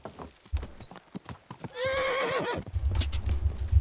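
In Kingdom Come: Deliverance 2, a horse's hooves clop along before a loud, clear whinny rises and falls, then hoofbeats resume heavier and nearer.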